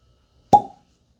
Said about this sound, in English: that's a decent cork pop